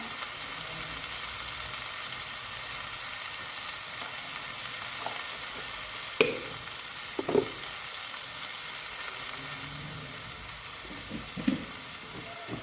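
Chili powder frying in hot oil in a pan for a bitter gourd curry, a steady close sizzle with a few soft stirring clinks, no talk.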